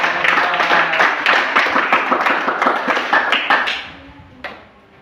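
Classroom group applause during a guidance-counseling lesson on managing emotions, a burst of dense hand clapping that rings out for about four seconds, then thins and fades, with one last clap near the end.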